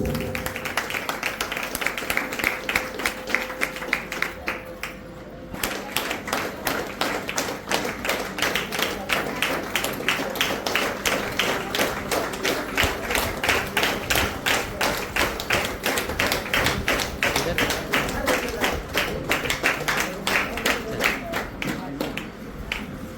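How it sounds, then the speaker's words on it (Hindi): An audience at a senior trainers' conference claps loudly together, building into steady, rhythmic applause that carries on without a break. "सभी लोगों को एक साथ जोरदार ताली"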